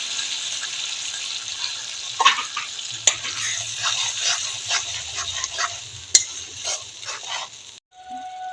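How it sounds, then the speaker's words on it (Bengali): Spices with turmeric and salt are stirred and sautéed in a pan for a rohu fish curry with cauliflower and potato, a close continuous sizzle broken by repeated spatula scrapes and knocks, then a brief quieter tail. "আমি এখন একটু ভালোভাবে কষিয়ে নিব মশলার সাথে"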